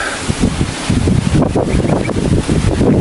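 Strong gusts from Typhoon Goring sweep across rice fields in Roxas, Isabela, roaring steadily and buffeting the microphone for the whole stretch, with no voices.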